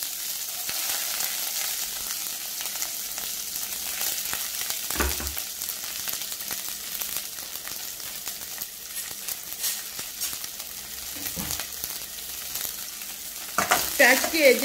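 Onions fry in a little hot oil with a dense, steady sizzle that holds throughout, ending with a brief louder clatter of a utensil.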